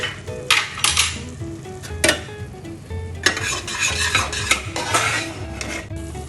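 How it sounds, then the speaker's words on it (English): Cumin and coriander powder sauté for murtabak in a pan, with a soft sizzle under repeated metal scrapes and clinks of a spoon against the pan, close and fairly loud. "1 teaspoon of cumin powder, 1 teaspoon of coriander powder, and we are going to saute it"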